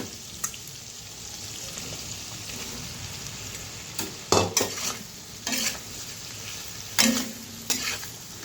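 Chicken pieces for chili chicken fry in a pan under a low, steady sizzle, while a utensil stirs and scrapes in several sharp bursts toward the end.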